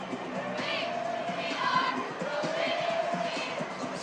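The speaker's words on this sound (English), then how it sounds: "And a huge crowd here at Derby beginning to file out." A large crowd murmurs and chatters at a Derby high school football stadium after a one-sided night game, a steady diffuse wash of distant voices and faint cheers filling the whole stretch.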